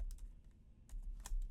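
Keys tapped on an ETC Eos lighting console keyboard entering a Shift-Alt-E shortcut: a few quick, light clicks in two small clusters over a quiet room, close and crisp.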